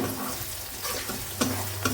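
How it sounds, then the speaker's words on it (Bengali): Onions sizzle steadily in hot oil in a home kitchen as they are fried until reddish, with a continuous crackle and a couple of sharper scraping stirs near the end, no voices. "পেঁয়াজটা একটু ভাজা হয়ে যায়, একটু লাল লাল করে ভাজা হোক"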